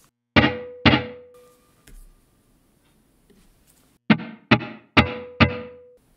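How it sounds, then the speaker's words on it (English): Room reverb on a Line 6 Helix guitar processor, with raised pre-delay, more diffusion and early reflections, tails sharp percussive hits: two close strikes, a softer one, then four more, each ringing and decaying with a brief sustained tone. "So it's just more controls on a room reverb."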